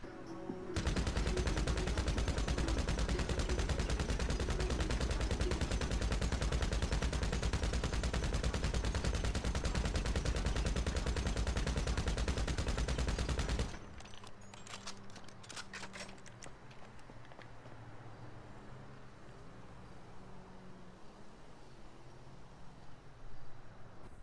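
Sustained, loud automatic machine-gun fire from GTA Online shooting in first person rattles without a break for about thirteen seconds. It then cuts to quieter ambient game sound with scattered faint clicks.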